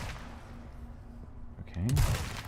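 Gunshots in Resident Evil 4 Remake during a boss fight at Salazar's castle, a few sharp close bursts near the end after quieter game ambience, with a voice talking over them.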